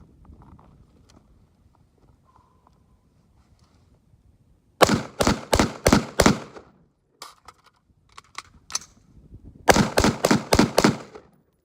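Rifle fired in rapid strings at an 18-yard shooting drill: two bursts of about five to six sharp, loud shots each, separated by a pause with faint handling noise.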